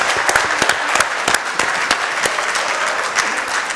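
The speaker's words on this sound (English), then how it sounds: "let's give Mr. Jones a round of applause" An audience at a county sheriff's office and state troopers community forum claps in loud, sustained applause, dense overlapping hand claps with a few sharper individual claps standing out, close and steady throughout.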